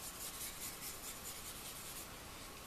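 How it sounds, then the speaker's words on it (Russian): Rosin being rubbed onto a bow, a close, faint rhythmic scraping rasp repeated in quick back-and-forth strokes, alone with no talk. "Вот таким макаром мы ее канифолим."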